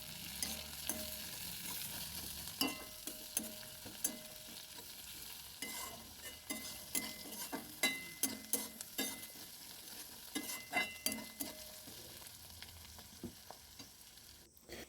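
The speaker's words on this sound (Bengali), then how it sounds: "এরপর এর মধ্যে দিয়ে দেব টমেটো কুচি, দিয়ে সেটিকেও ভাজা করতে থাকবো।" Green chillies and chopped tomatoes frying in a pan, with a steady sizzle and repeated scraping stirs of a spatula throughout, no voices.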